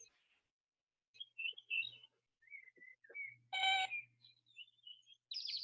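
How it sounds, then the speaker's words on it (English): A spring bird calls outdoors in a quiet setting, giving scattered short chirps and whistles with a brief louder buzzy note midway, fairly faint and with gaps of silence between calls. "Cool, that bird is building a nest."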